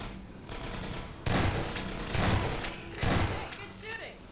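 Bursts of automatic gunfire from Half-Life 2: Episode 1 come in several loud volleys with short gaps between them, heavy and close, over a constant game background din.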